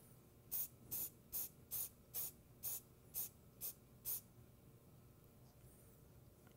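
Super glue activator spray misted onto Corian turning work on a lathe: nine short, sharp aerosol bursts in a steady rhythm over about four seconds, close and crisp against a quiet room, then silence.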